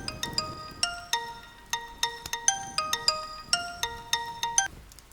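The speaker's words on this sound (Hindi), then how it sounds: "फोन आया है।" A phone rings with an electronic melodic ringtone: a quick, repeating run of bright chiming notes, fairly close and clear, with no speech.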